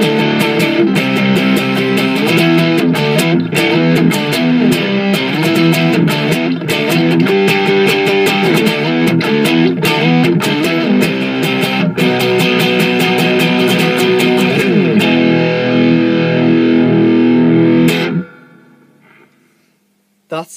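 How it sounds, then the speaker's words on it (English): Electric guitar through an OS-2 pedal with the drive pushed high plays a continuous riff of overdriven chords and notes for most of the clip, then rings out and fades to near silence. "So we're really pushing the drive in now"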